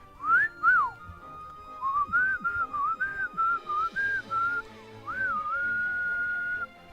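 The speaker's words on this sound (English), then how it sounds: "Come on, whistle." A person whistles a wandering melody, opening with two short notes, then a run of clipped notes in a steady rhythm, ending on a long held tone, close and clear with no talking.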